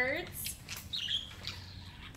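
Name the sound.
budgies (parakeets) chirping in an aviary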